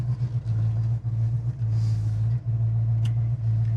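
A 1969 Pontiac GTO engine hums steadily at low pitch while driving, a constant close drone with slight dips, with no talking.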